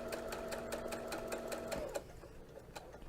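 A sewing machine stitches steadily over a fabric seam with a funnel-type presser foot, a close, continuous mechanical whir with rapid needle ticks that slows and stops about two seconds in, leaving quiet room noise.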